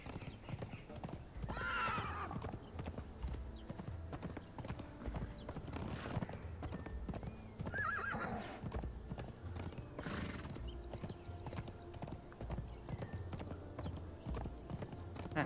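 Horse hooves clip-clop at a gallop in the Conan Exiles video game, a steady rhythmic beat under continuous background noise, with a few neighs and whinnies breaking through.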